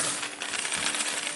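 Gold coins dropping and jingling in a short, bright metallic cascade, close and fairly quiet, with no talk.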